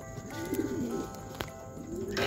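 Racing pigeons coo in a loft near a training box, several soft, close calls overlapping in a steady murmur with a brief sharp knock midway and no talk.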